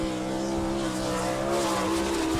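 Car number 25, a sprint car from Glenville, Pennsylvania, sets off on a lap of a dirt horse track at an All Star Circuit of Champions race in Attica, Ohio, its engine roaring loud and close with a steady high-pitched whine throughout.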